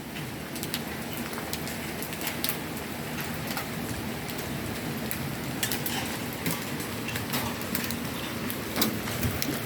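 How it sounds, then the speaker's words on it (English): Dime-sized hail rattles down onto a pickup truck after a storm, a dense continuous patter of sharp ticks and taps against the metal, steady and moderately loud throughout with no voices. "it's still some hail coming down. You can hear it coming on the truck."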